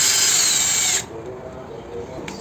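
A power drill or impact driver runs loud and steady on plastic interior trim for about a second, then cuts off and leaves a quiet room with a faint click near the end.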